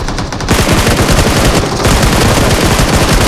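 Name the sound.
gunfire from the front in a battle royale video game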